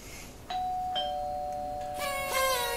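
Electronic doorbell chime ringing several clear ding-dong tones in quick succession, bright and close, with overlapping ringing notes toward the end.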